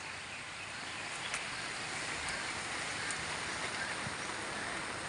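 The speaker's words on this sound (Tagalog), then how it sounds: "Malakas na ulan." Dense, even roar of heavy rain falling steadily on surfaces, continuous and enveloping with no breaks or voices.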